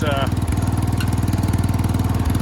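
A John Deere 140 H3 garden tractor engine chugs with a fast, even, throbbing beat as it drives off, loud and close, with a short extra sound at the start.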